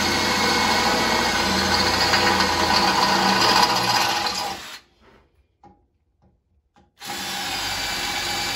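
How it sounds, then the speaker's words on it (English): A power drill cutting 5/16-inch holes in the frame of a Briggs & Stratton 6000-watt generator during a propane conversion: loud continuous drilling for nearly five seconds, a two-second near-silent pause, then the drill starts again, close up. "Okay, now we're going to drill our holes."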